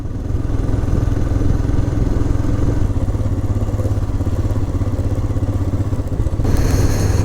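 Motorcycle riding along a mountain bypass road in Uttarakhand, a loud, close, continuous engine drone with rumbling wind and road noise throughout.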